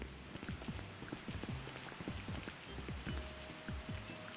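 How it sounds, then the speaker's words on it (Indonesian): Rain in GTA V roleplay, a steady hiss of rainfall with dense small drop impacts on surfaces, soft and even throughout. "Hujan."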